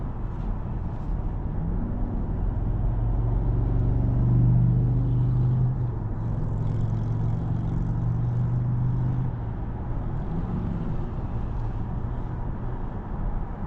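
A 2025 Toyota Camry XSE in sport mode gives a steady low engine and road rumble from inside the cabin, swelling slightly around the middle and then holding an even drone with no talk.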